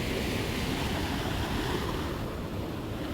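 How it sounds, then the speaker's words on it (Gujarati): Water released from a full dam surges loudly through a deep village canal, a dense, continuous roar that stays close and steady with no talk. "આ મિત્રો પાણી જાય, જો કેટલું પાણી આવે."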